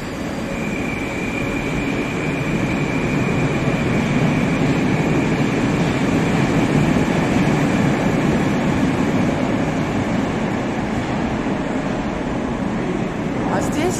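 Moscow metro train at Mnevniki station on the Big Circle Line, a steady loud rumble of wheels and carriages with a faint squeal near the end.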